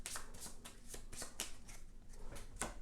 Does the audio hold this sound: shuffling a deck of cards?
yes